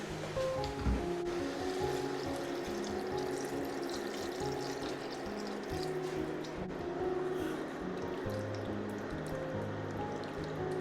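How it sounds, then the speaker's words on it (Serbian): Cold water poured over chicken paprikash seasoned with sweet paprika, a continuous rushing, splashing flow close by that lasts the whole stretch without pause. "Sada ćemo ovo naše jelo da zalijemo sa hladnom vodom."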